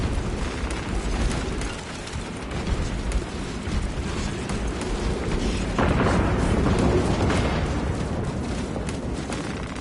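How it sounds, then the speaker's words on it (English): Heavy artillery fire in Warhammer 40,000: Space Marine 2, a continuous dense barrage of deep booms and bursts that thickens and grows louder partway through, with no talk over it. "For artillery!"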